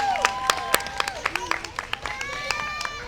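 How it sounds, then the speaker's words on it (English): Audience clapping at an outdoor birth rally, a patchy spread of individual hand claps with voices and a few whoops and calls weaving through. "Let's give ourselves a big round of applause for being here."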